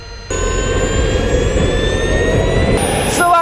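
A fighter-jet-style turbine engine fitted to a ride-on twist car roars at high revs, a loud steady whine with rising tonal pitch after a brief quieter start, then a shift in tone near the end.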